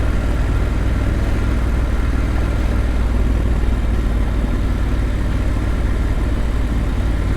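A motorcycle engine runs steadily on an offroad trip, a close, continuous low drone with a rough, gritty texture and no voices.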